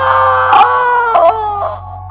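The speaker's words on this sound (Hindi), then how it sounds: "एक जोरदार भयानक चीख की आवाज आई।" A loud, wavering, terrifying scream for a horror story rises and falls in several pitched bursts over a low steady drone, with no talking.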